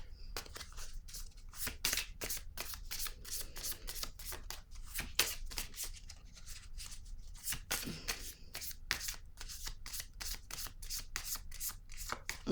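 Tarot cards are shuffled steadily for about twelve seconds in a quiet room, a close, crisp run of rapid riffling slaps and card-on-card flicks with no talking.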